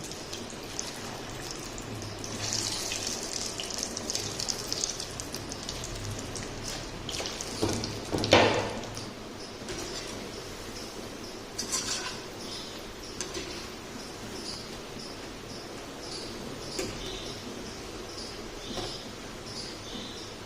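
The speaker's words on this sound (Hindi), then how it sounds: "अब हम बाकी के भी इसमें डाल देंगे और सबको फ्राई कर लेंगे।" Snack pieces deep frying in hot oil over a medium flame, a continuous faint crackle and sizzle of fine popping bubbles, with one sharper clatter partway through.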